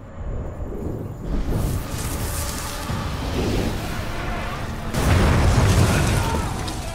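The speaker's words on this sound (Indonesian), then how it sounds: "kobaran api melahap uang-uang palsu di gudang dan menimbulkan ledakan" Blaze in a warehouse full of counterfeit money sets off an explosion, a loud broadband roar of bursting and rumbling that swells sharply near the end, with no talk over it.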